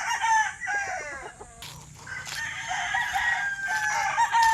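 Chickens and roosters at a poultry farm, with a rooster crowing loudly up close and hens clucking around it, set against steady farmyard background noise.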